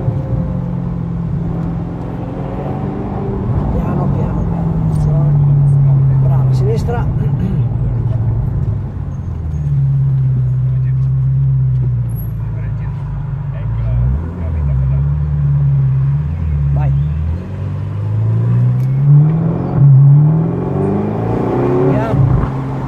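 A Ferrari sports car driven fast on a race track, its engine droning loud and steady, with pitch rising and falling as it accelerates, under nearly continuous talking inside the car.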